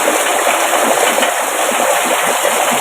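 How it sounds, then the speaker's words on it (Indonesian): Heavy tropical downpour drenching a hillside home high above a river, a loud, steady broadband hiss of rain that stays dense and unbroken throughout with no voices. "hujannya derasnya"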